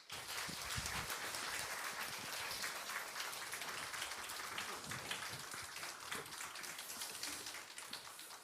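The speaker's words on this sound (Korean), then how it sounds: "따뜻한 박수로 맞이하겠습니다" A church congregation gives warm applause to welcome a visiting pastor, a faint, distant patter of many hands clapping steadily for several seconds.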